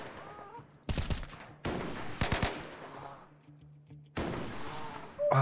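Gunfire from a Rimworld colony defending behind a wall against an attacking horde of desert kittens, a sniper rifle among the weapons; four loud separate bursts of rapid shots with quieter gaps between them.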